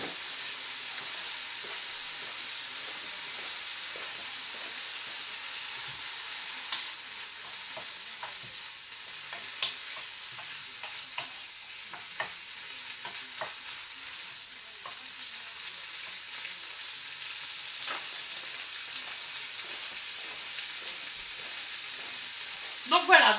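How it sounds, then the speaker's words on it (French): Lardons fry in a pan, giving a steady, soft sizzle throughout, with occasional scraping clicks as they are stirred and a brief clatter at the end. "je vais juste mélanger mes lardons, je n'aime pas que ça cristallise"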